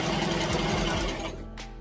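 A sewing machine stitches a tutu skirt, its motor whirring in a steady rapid run for most of the moment before slowing and dropping off near the end, close and alone.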